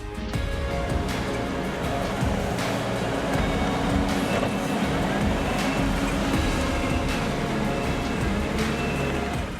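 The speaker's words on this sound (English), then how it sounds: "we'll create a level grade across the entire site using our skid steer" A skid steer grading a playset foundation site runs as a steady, loud engine drone with low rumbling and clanking, continuous throughout with no break.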